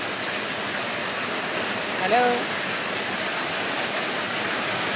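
Heavy rain driven by strong wind makes a dense, steady roar that fills the whole clip, with a brief voice calling out near the middle.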